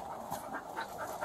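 A dog pants in quick, steady breaths, close and moderately loud, with no talk over it.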